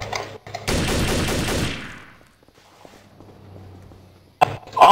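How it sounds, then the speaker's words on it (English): A gun fires in Trouble in Terrorist Town, a loud, rapid burst of shots lasting about a second, then near silence with faint background noise and a sharp sound at the very end. "He just shot."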